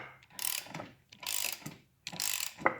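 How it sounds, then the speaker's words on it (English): Ratchet wrench pressing a bushing into a BMW E46 race car subframe, heard as three long ratcheting pulls with pauses between them and a sharp click near the end, close and fairly loud. "once it gets so deep, you can transition to your ratchet wrench"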